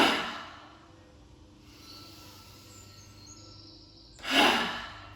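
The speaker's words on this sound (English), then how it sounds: "Big dramatic exhale as you drop the shoulders." A deep, dramatic exhale during a seated chair yoga stretch, shoulders dropping: a breathy burst at the start, a quiet stretch, then a second loud, full breath out near the end.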